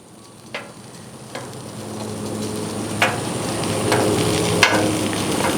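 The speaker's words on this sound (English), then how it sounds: "We got some Texas toast cooking up" Texas toast sizzling on a Blackstone griddle, a steady frying hiss that swells slightly over time, broken by a few sharp ticks and scrapes of a spatula against the flat-top.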